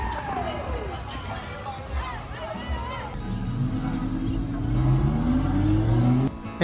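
Party buses roll along a Nashville street, engines rising in pitch as they pass at moderate distance, with crowd chatter and a voice speaking over the traffic.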